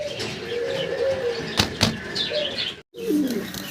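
A pair of Golla pigeons offered for sale, cooing close by with a couple of sharp wing flaps partway through and a brief cutout near the end.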